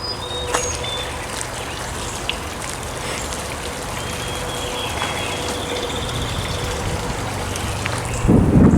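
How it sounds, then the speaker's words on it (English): Water trickles steadily from a small creek or drainage ditch along a walking route, a continuous soft wash of flow heard up close with no talk. Near the end the sound briefly swells louder. "There's a little creek, probably more of a puddle or a drainage ditch of some sort than an actual"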